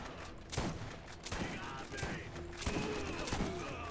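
Shotgun blasts in the video game Borderlands, a string of sharp overlapping bursts over a steady rumble of game noise, with a voice heard faintly in the mix.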